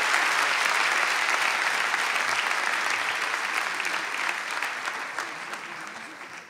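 Concert audience applauding for a musician at an album launch concert, a dense, steady wash of many hands clapping that fills the whole stretch and slowly tapers off toward the end.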